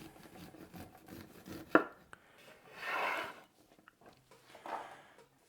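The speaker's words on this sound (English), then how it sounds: "we're just gonna cut the kernels off the corn" Soft knife cuts slicing kernels off an ear of corn in a home kitchen, a sharp tap then two broader scraping strokes, quiet and close with no talking.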